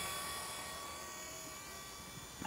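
A remote control helicopter, a V912 model, hovers overhead with a steady high-pitched whine and buzzing rotor hum, continuous and fairly close.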